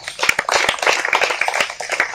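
Live audience at a New Diet System health camp bursts into loud, dense clapping with sharp individual hand claps standing out throughout.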